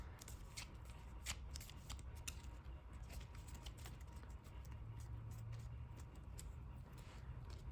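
A deck of Yu-Gi-Oh trading cards is shuffled close by in a rapid run of crisp riffling flicks and soft slaps, with faint background hum.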